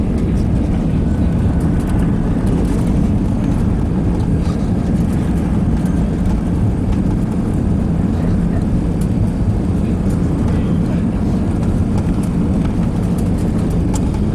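An airliner rolls out after touching down on runway 27, a continuous heavy low rumble and roar heard from inside the cabin, steady throughout without speech.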